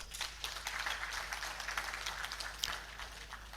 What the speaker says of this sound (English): Help me applaud Mr. President